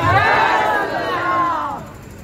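A crowd at a religious gathering roars back in unison in answer to Takbir and Risalat slogan chants, a loud swelling shout of many voices that fades out after about two seconds.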